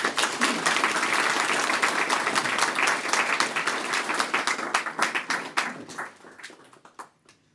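Sustained applause from an audience at a memorial medal ceremony in Marlborough, Massachusetts, dense and loud at first, then thinning into scattered individual claps that fade out near the end.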